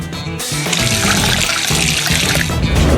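A Coca-Cola and sugar mixture is poured into a glass in a kitchen, a steady loud liquid stream splashing and gurgling close by for about three seconds with no talk.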